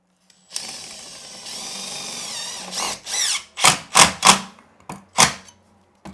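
A power driver whirs steadily for about two seconds, then fires in a string of short, sharp bursts, close and loud, driving screws into a shower mixer fixing during a bathroom plumbing install.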